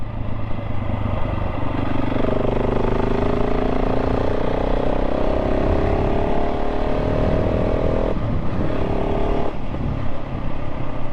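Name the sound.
KTM 690 SMC-R motorcycle riding on bumpy back lanes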